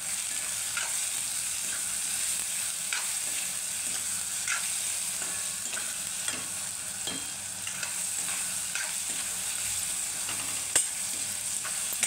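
Tomato and spice masala for black-eyed pea curry sautéing in a pan, a steady close sizzle with repeated soft scrapes of a spoon stirring throughout, no voices.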